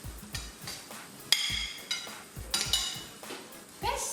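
Mixed vegetables being stirred into corned beef chopsuey in a pan, with repeated scraping and clinking of a utensil against the metal and a faint sizzle underneath, close and fairly quiet.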